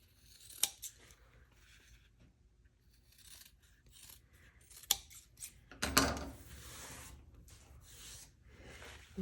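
Sewing scissors snip at fabric corners and seam allowance, giving a few quiet, sharp cuts with soft rustling of cloth between them in a quiet room.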